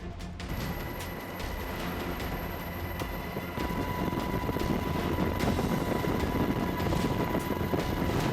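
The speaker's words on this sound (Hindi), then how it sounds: "समंदर में जंगी जहाजों की गूंज है।" Warships out at sea amid Middle East tensions give a steady, deep rumbling drone that rises slightly in strength and carries on throughout, with no voices over it.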